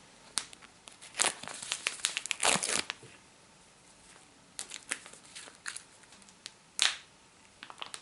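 A plastic packet of edible bug powder is torn and crinkled open nearby, giving bursts of crackling rustle with a louder rip early on and scattered crinkles after.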